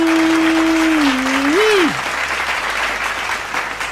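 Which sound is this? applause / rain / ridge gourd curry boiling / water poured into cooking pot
applause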